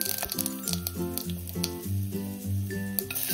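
Red chilies and mustard seeds crackle and sizzle in hot oil for a masoor dal tempering, a steady close hiss running beneath sustained tonal sounds.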